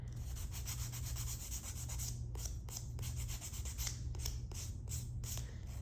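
A nail file scrapes back and forth over acrylic toenails in quick, close, repeated rasping strokes, with no voices.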